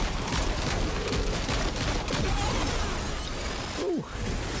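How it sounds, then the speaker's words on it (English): Loud, dense gunfire from a shotgun in the Death Stranding 2 video game, a rapid barrage of blasts and impacts with rattling mechanical noise, close and continuous, ending in a short whooshing effect. "Let's try the shotgun for a change."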